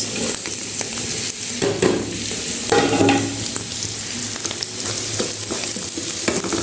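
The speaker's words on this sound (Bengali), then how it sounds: "কিছুক্ষণ গাজর ভেজে নেওয়ার পরে দিয়েছি পেঁয়াজ আর মাশরুম।" Carrot, onion and mushroom stir-frying in a pan for chow mein, a loud, close, continuous sizzle broken by repeated scraping and clattering stirs of a spatula.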